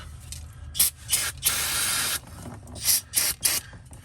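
Short bursts of cleaner spray from an aerosol can hissing close by at a vehicle transfer case, with one longer sustained spray in the middle, alone without talk.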